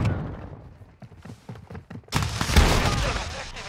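Gunfire in the video game Call of Duty: Modern Warfare II, a run of rapid close shots with thuds, then a louder, denser burst of firing and blasts.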